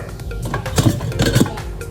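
A metal pressure cooker lid is worked open, giving several quick clinks and scrapes in two small clusters, close and fairly loud over a low kitchen background.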